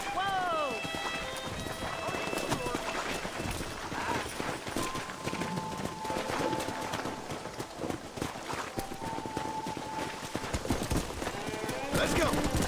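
Hooves of a pack of wild horses in the western video game Red Dead Redemption, a steady clip-clop of galloping over continuous ambient noise, with a voice briefly calling out near the start.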